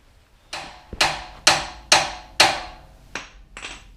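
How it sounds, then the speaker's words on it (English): Hammer striking a tie rod end on a Jeep JK steering knuckle, seven sharp metallic blows in a steady rhythm about half a second apart, loud and close, the last two lighter, with no talking. "a couple smacks here should pop this thing down. So let me grab a BFH and get to work."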